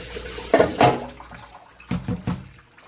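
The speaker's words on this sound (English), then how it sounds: "Just cooling off this pan so I can set it in the sink." Tap water runs into a kitchen sink onto a hot pasta pan to cool it, coming in short splashing bursts with a quieter hiss between them.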